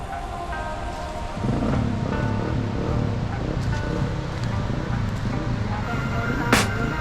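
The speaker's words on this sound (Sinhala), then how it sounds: "ඈතින් බෝපත් ඇල්ලේ සද්දය ඇහෙනවා" Bopath Ella waterfall in Sri Lanka roars in the distance as a soft, steady low rumble, thickening after the first second and mixed with faint wind noise.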